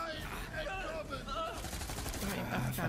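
Rapid, dense gunfire from Borderlands 3 rattles on continuously for about three seconds, loud and close, layered with busy in-game action and some voices.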